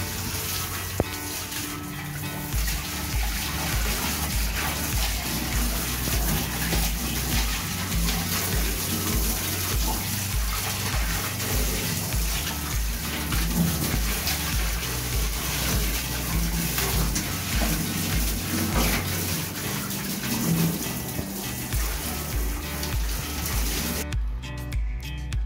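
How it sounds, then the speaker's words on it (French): Water sprays and gushes steadily over diatomaceous earth filter screens during winery filtration cleanup, a loud continuous rinse that runs for the whole stretch with no pauses. "on démonte, on nettoie, on passe un coup d'eau, et ça repart tout"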